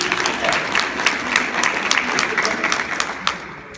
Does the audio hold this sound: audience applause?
yes